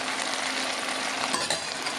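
Crabs frying in a pan with garlic, lime juice seasoning and marinade for Tobago curry crab, a steady, close, loud sizzle with a few small pops.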